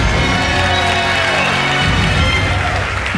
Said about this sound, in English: That is the sound of the Terminator.